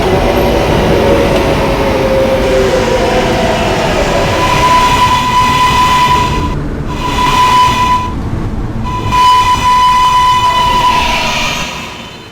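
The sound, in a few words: R143 subway train running, local train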